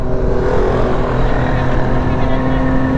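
A 701 motorcycle engine runs at full throttle, a loud, steady, close droning roar that holds its pitch without letting up.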